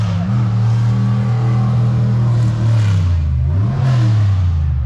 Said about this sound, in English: they got some classic drag racing going on right now